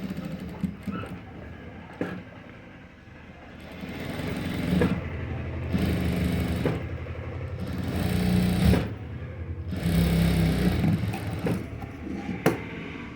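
A sewing machine runs stitch along the edge of the back piece of a princess-back blouse, in several loud bursts separated by short pauses, with no talk.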